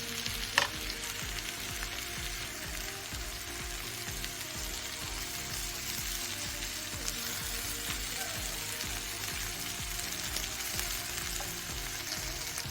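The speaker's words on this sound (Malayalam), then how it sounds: "ലോ ഫ്ലെയിമിലിട്ട് നമുക്കിത് ഫ്രൈ ചെയ്ത് എടുക്കണം." Ivy gourd fries over a low flame in a pan, a steady crackling sizzle throughout, with occasional stirring movements and one brief sharp knock near the start.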